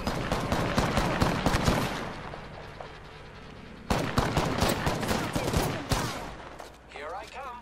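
Rapid automatic gunfire in Apex Legends, dense bursts of shots close by that stop briefly and resume, with voices talking over the action.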